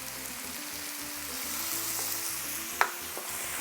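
Potatoes, carrots and frozen corn sizzle in a pan with ground beef, giving a steady, even hiss close by, with a low rhythmic hum underneath and one sharp clink near the end.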